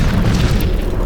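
A loud, close boom of gas cans exploding in a video game factory, a sustained roaring blast filling the whole moment.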